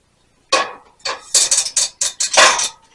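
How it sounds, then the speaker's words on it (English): Cooked potatoes being folded into homemade potato salad in a bowl: a series of close, clattering scrapes and knocks of a utensil against the dish in uneven bursts, with no talking. "Now we're just going to fold those in. Remember to stir it up gently."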